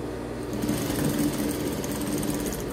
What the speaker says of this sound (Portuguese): E vamos passar uma costurinha até aqui os 25 centímetros.